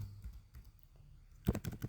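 A quick flurry of computer keyboard keystrokes, a few close, crisp clicks in a short burst near the end after a stretch of quiet room tone.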